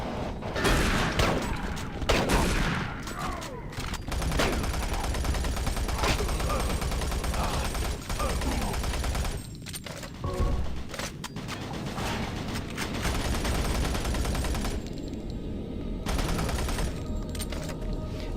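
Dense, sustained gunfire rattles through a Doom 3 BFG firefight, rapid automatic bursts and heavy shots overlapping almost continuously, loud and close, with mechanical clanks and brief lulls between volleys.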